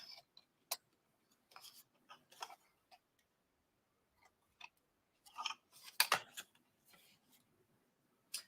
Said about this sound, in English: Then the long side, and then we're going to cut the sides off.